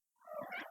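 A house cat gives a single short, soft meow, faint and isolated against a quiet background.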